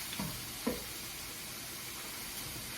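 Seasoned ground beef sizzling in a hot pan, a steady soft frying hiss throughout with a brief clatter of stirring near the start, fairly quiet and without talk.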